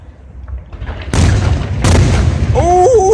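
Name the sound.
fireworks exploding at a baseball game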